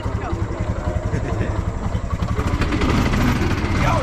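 Four-wheeler ATV engine revving loudly at the start of a drag race against another vehicle, a steady rumbling drone that swells and grows louder toward the end.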